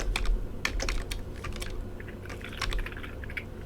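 Fast typing on a computer keyboard: rapid, irregular clicks and key taps in quick bursts, close and clear, with no voices.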